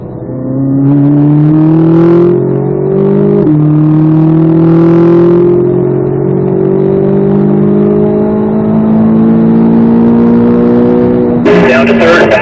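Chevrolet Corvette Z06 engine pulling hard around a racetrack from inside the car, a loud, sustained drone rising in pitch with a downshift and renewed acceleration, while a driving instructor talks over it.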